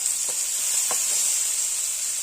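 Green chillies and onion sizzle steadily in a hot pan for a chicken chilli dish, a continuous close hiss with a few soft crackles and stirring taps, no voices.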